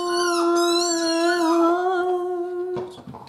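A dog howls in one long, loud, sustained wavering tone close by, trailing off into a few short whimpers at the end.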